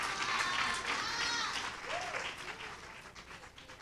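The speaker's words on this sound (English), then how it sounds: "Let's give them again a round of applause" A round of applause at a Gender-Based Violence Safety and Reporting Desk relaunch event, loud clapping from an audience for a band, fading slightly over several seconds with some crowd voices mixed in.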